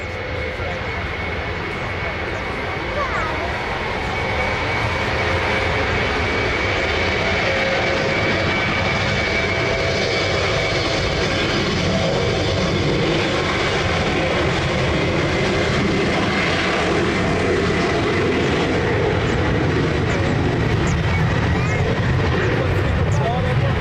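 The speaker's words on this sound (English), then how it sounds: "20, cleared for takeoff." An airplane takes off from runway 20 at Lisbon Airport, a loud, steady engine roar filling the whole stretch and swelling slightly partway through, with radio voices talking over it.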